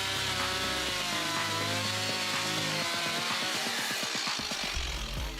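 A Stihl MS 170 chainsaw with a compact 30.1 cc engine cuts through wood, its steady high-pitched engine whine loud and continuous, with the pitch shifting as the chain bites.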